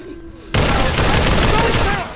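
A sustained burst of light machine gun fire in the VR shooter Population: One erupts after a quiet moment and continues rapidly and loudly to the end.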